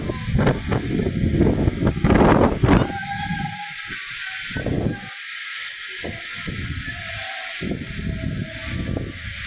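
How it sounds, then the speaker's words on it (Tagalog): Strong gusting wind in a rainstorm at Nakpil Street and Taft Avenue, a loud rushing roar that surges and drops, with hissing rain and low rumbling bursts throughout. "At lalo pa lumalakas yung hangin."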